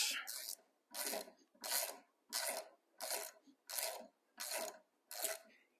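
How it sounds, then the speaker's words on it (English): A socket wrench ratchets repeatedly while tightening the left crank arm bolt on a Stages indoor cycle, giving eight close, evenly spaced rasping bursts with brief pauses between them. "you can actually crank the bolt or provide a really good amount of torque on this arm"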